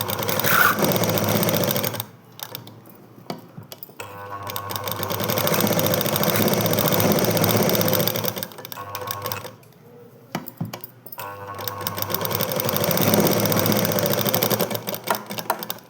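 A sewing machine runs in long bursts, stitching blouse lining cloth with a big stitch, giving a loud, steady rapid clatter broken by short pauses, close to the listener.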